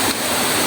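Clean stream water rushes downstream at a hillside water catchment area on a hiking trail up Penang Hill, a loud, close, steady broadband roar with no voices.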